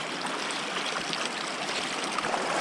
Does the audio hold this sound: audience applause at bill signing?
no